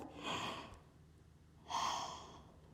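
Two deep breaths are taken during a hip stretching routine, a long airy exhale followed by a pause and a second strong breath, close and fairly quiet.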